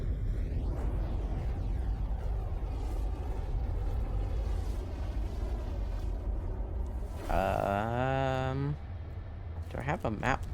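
Fire burning in the fire tunnel of the video game Stalker GAMMA, a continuous low roaring rumble that runs throughout, with a voice talking over it toward the end.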